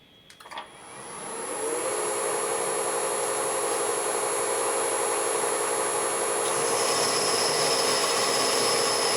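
A power drill runs steadily while its bit bores through the port of a Chevy inline-six cylinder head, a whining motor tone that rises after a brief start and holds constant, close and continuous.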